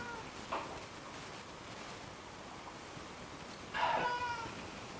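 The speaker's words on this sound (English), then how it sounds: "Can you hear him meowing away?" A cat meows a couple of times indoors, faint and fairly distant, with a brief cry early on and a louder, longer meow near the end over a soft background hiss.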